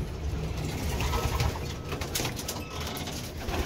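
Pigeons coo and murmur inside a one-loft racing pigeon loft, several birds calling in low overlapping rhythmic coos close by, with occasional wing flutters.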